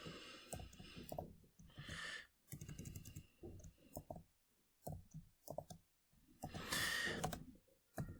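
Fortran code being typed on a computer keyboard, with quiet irregular clusters of key clicks and pauses between them, and a couple of soft breaths or sighs close by.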